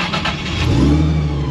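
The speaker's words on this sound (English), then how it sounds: "My car starts up." Chevrolet Camaro engine firing up, a loud mid-pitched roar that rises and settles into a rumbling idle, close by with no voices.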